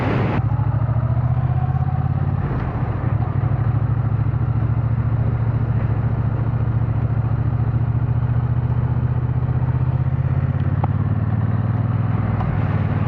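A Triumph Bonneville T120 motorcycle being ridden, its engine droning loud and steady throughout with wind rush and occasional clatter from the road.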